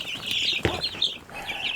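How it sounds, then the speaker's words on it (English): Chickens in a coop holding about eight birds, with steady high clucking and chattering throughout, a short burst near the middle, and no talk. "8 chickens in there."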